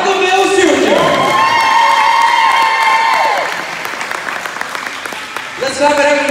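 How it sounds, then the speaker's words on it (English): An audience applauding and cheering at a basketball awards event, loud clapping and whoops close by while an announcer speaks over a PA, the clapping fading toward the end. "Let's clap it up for Michael Mills Jr."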